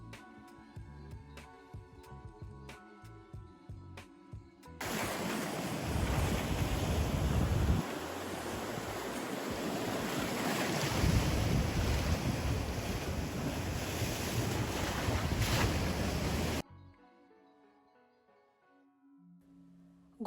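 Sea waves and wind at the shore in Barcelona, a broad, steady rushing roar swelling in the middle stretch, with soft tonal music before and after it.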